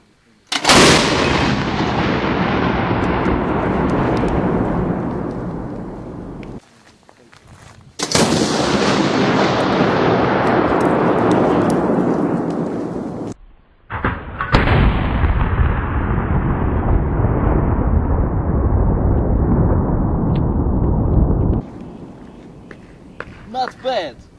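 A 40mm gun fires at a mannequin in three long, roaring bursts, each starting abruptly and fading slowly, with short gaps between them.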